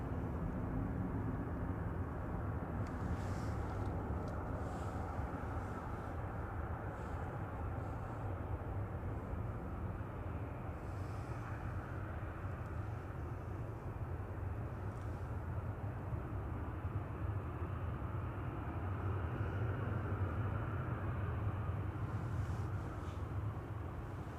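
Airbus A320 jet airliner arriving from Heathrow at Manchester Airport, a steady low engine roar with broad rumble held throughout, fairly distant and unbroken, with no talk over it.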